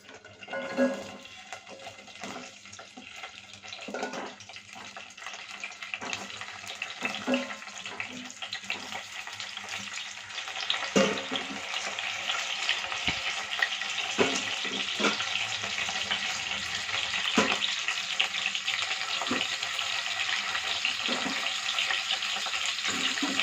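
Green chilies, tomatoes and onions frying and being stirred in a pan, a steady sizzle running throughout with scraping strokes and clinks of the spoon against the pan at intervals.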